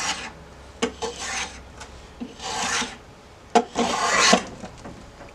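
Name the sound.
repaired planer cutting even shavings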